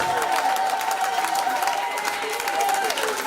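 A large church congregation cheers and claps continuously, a dense wash of applause with a voice carrying faintly above it.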